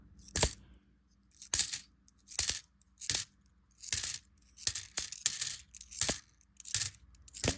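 Quarters clatter and clink as they drop during a search through a coin box for silver, arriving in about ten separate close, sharp bursts with quiet gaps between.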